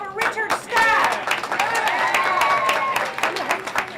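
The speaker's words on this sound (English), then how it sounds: "So please give another round of applause for Richard Stack." Audience applause at a rally about the closing of St. Vincent's Hospital, steady clapping throughout with cheers and whistles mixed in.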